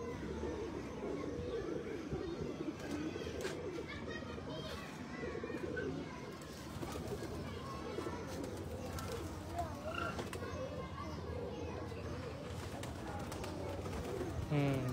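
A flock of breeder pigeons in a Faisalabad loft coos steadily and overlapping for the whole stretch, a dense, continuous murmur with faint background noise.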